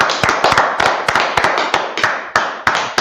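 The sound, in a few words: class applauding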